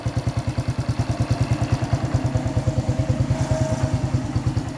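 A stock Honda Wave 110i motorcycle engine runs at a steady idle after a top-end repair, close and loud, with an even rapid thumping exhaust pulse throughout.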